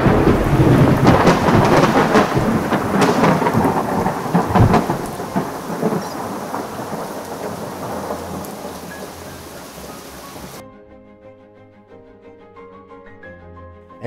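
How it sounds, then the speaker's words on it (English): Steady heavy rainfall with several loud thunder rumbles and cracks, dense and close for about ten seconds before cutting abruptly to a much quieter, sparser tail. "rain falls, lightning strikes."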